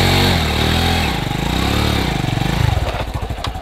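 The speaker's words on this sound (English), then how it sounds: "with no clutch, it'll be like, the engine will rev high, but the bike won't move forward" A semi-automatic motorbike engine with no clutch engaged revs high while the bike stays still, a loud close buzzing that rises and falls, then settles into a choppy, uneven idle.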